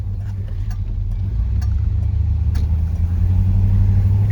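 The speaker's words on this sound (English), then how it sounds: "This car just drives so effortlessly." A 1966 Pontiac Catalina 389 V8 coupe cruising gently through a subdivision, its engine a steady low rumble that swells slightly toward the end, with faint road and cabin noise throughout.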